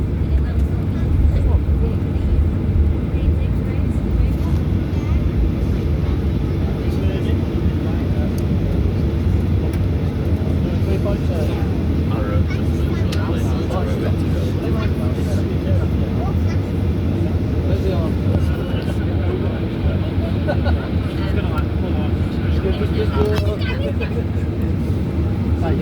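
Airliner departing Manchester Airport on a sunny day, heard from inside the cabin as a steady, loud engine roar that holds throughout with no breaks.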